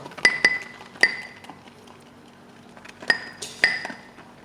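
Several bright glassy clinks from a shaving brush stirring lather in a bowl, in two clusters with a pause between, close and fairly clear over a quiet background.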